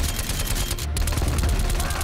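A Milano submachine gun in Call of Duty Black Ops Cold War fires in a rapid, unbroken burst of close, loud automatic shots.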